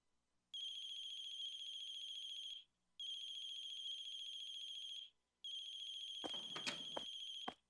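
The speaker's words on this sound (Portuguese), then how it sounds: "ela ouve o telemóvel dela a tocar do lado de fora do seu apartamento" A mobile phone rings outside an apartment, a steady electronic ringtone sounding in three long bursts with short gaps, followed by a brief burst of clattering noise at the end.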